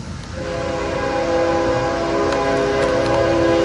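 Union Pacific manifest freight train passing through Fairbury, Nebraska, its horn sounding a steady, loud chord almost throughout, over the continuous rumble of the moving train.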